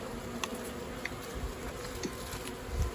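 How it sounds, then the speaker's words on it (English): Honey bees in a winter hive give off a low, steady buzzing hum while being fed, with faint scattered ticks and rustles from the frames, no voices. "Move the bees down gently."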